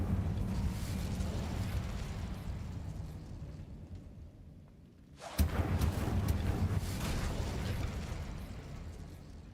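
A whooshing fiery roar of the Incendio fire spell in Hogwarts Legacy swells, dips briefly, then bursts again loudly around the midpoint and keeps crackling and roaring steadily to the end.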